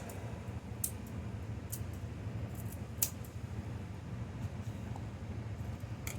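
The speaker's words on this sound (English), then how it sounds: "And I'm going to just cut that up." Fried bacon is cut up, a few faint crisp snips and clicks of a blade against a board, scattered and quiet over low room hum, with no talking.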